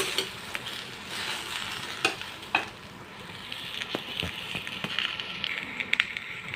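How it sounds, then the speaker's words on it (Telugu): Okra pieces fry in a kadai with a soft, steady sizzle while a spoon stirs and scrapes them, leaving occasional sharp clicks and knocks against the pan. "దీంట్లో ఉండే జిగురు అంతా పోయే విధంగా మనం బెండకాయ ముక్కల్ని వేయించుకోవాలండి"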